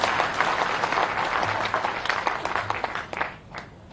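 A crowd applauds at a BJP welcome rally in Bhopal, Madhya Pradesh, with steady dense clapping for several seconds that fades away at the end.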